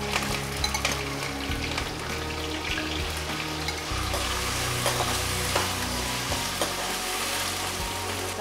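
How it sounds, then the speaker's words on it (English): Cumin, curry leaves and diced potato fry in hot oil in a kadhai for sabudana khichadi, giving a steady close sizzle with scattered spatter pops and occasional stirring scrapes, no talk. "So once it starts splattering, add the curry leaves and the diced potato."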